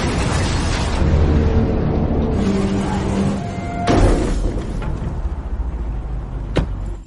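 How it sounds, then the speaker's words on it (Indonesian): A truck in an action film blows up after its tire is shot and it swerves, a loud roaring blast with rumbling debris and a sharp crack near the end, mixed with dramatic score. "ia menembak ban truk dan membuatnya oleng lalu meledak"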